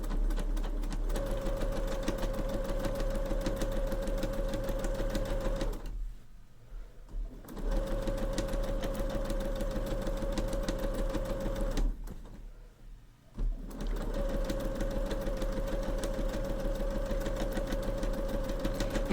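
A sewing machine stitching fabric bunting runs in a steady, fast mechanical whir with two short pauses where the needle stops and the fabric is turned, close and even, with no talking.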